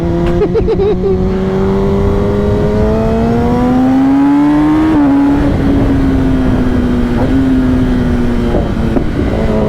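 A Kawasaki ZX-10R sportbike ridden over a bumpy, gravel-sprinkled road, its engine droning loud and close with steady harmonics that climb gently, a brief throttle blip midway, no talking.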